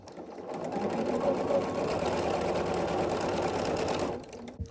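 A sewing machine stitching a quilt block seam along a diagonal, running in one steady, continuous burst for about four seconds close up, then stopping.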